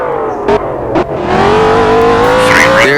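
A Group B rally car in the Roblox game GPTX races at speed on a Polish stage, its engine revving hard and climbing steadily, loud and close, with two brief sharp bursts early on and no talking.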